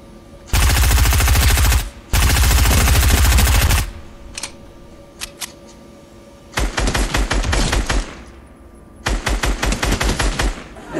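Loud automatic gunfire from the video game Fortnite comes in long sustained bursts, followed by scattered single shots and then rapid repeated rounds in two more bursts.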